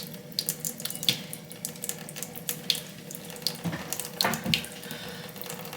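Tap water runs into a sink to wet a makeup brush, a steady close splashing stream with small bursts and spatters as the brush is worked under it, with no talking.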